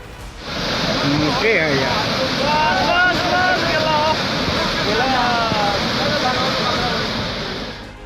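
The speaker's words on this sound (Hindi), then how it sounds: "पहले उफान पर आई बागमती नदी और लाल बकैया नदी का शोर सुनिए" Flooded Bagmati and Lal Bakaiya rivers in Bihar, India, running high: a loud, continuous rushing roar of water fills the whole stretch, with a voice speaking over it.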